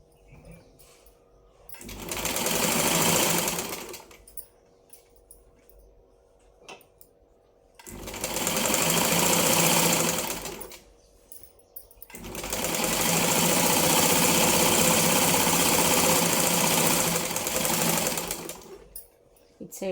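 A sewing machine stitches a lined blouse in three long runs, loud and close, each burst steady and whirring with short quiet gaps between.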